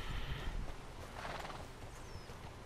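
A horse in the Red Dead Redemption 2 video game neighs and whinnies while its hooves clip-clop beneath, quiet and fairly close, with no talking.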